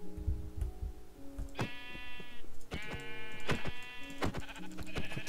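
Minecraft sheep bleat loudly and close in two drawn-out, quavering calls with a shorter one near the end, layered over gentle game music and soft ticks.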